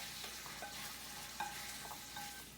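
Scallops sear in a hot pan with a steady, close sizzle and crackle, a few small spits and pops breaking through the continuous frying hiss, and no talking.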